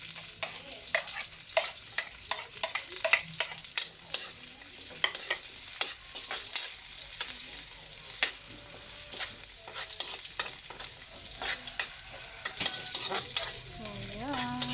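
Onions being sautéed in a pan for a Kapampangan vegetable stir-fry, with a steady close sizzle and repeated scraping and stirring strokes throughout, no talking.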